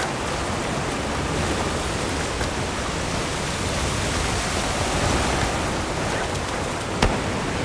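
A heavy downpour in the video game Monster Hunter Wilds roars as a dense, steady hiss of rain, continuous and loud, with no talking.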